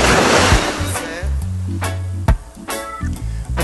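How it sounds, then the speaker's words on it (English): Ocean waves wash in from a Corona beer commercial, a broad rushing surf rising and falling under a low musical tone, with sharp splashing swells at intervals. "Every time I see something poignant, the waves come in."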